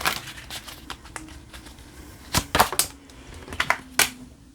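Tarot cards being shuffled by hand, a series of soft irregular crisp riffles and taps with a few sharper snaps, fairly quiet and close, with no talk.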